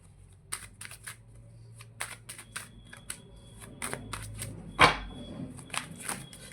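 Tarot cards shuffled and drawn by hand during a reading, heard as soft close riffles, flicks and taps in an irregular rhythm, with one sharper snap near the end and no talk.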